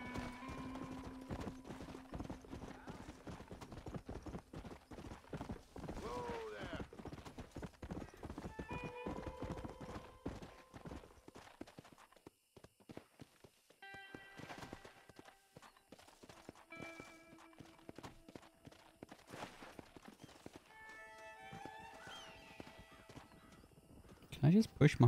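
Video game sounds from Red Dead Redemption: steady clip-clop of horse hooves with occasional whinnies, crows cawing faintly at times, and a person talking over much of it.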